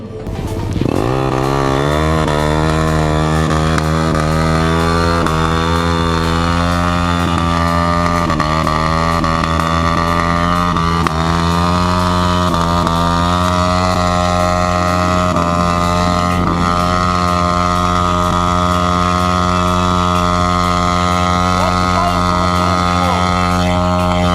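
Sport motorcycles racing side by side, a four-valve 200 cc bike edging ahead of a three-valve one, engines screaming loud and steady at high revs the whole way through, without a break.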